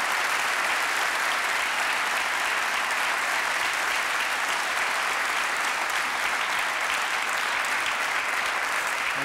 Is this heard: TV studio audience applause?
yes